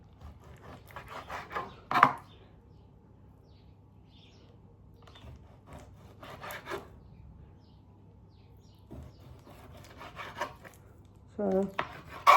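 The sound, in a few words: knife cutting chicken into strips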